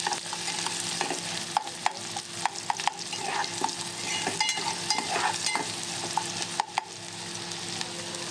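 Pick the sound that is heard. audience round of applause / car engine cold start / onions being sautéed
onions being sautéed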